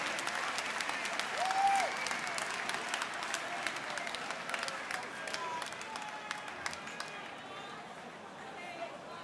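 Crowd applause fills a darts tournament hall, a dense, steady patter of clapping that carries on throughout, with a brief whistle or whoop near the start and faint voices in the background.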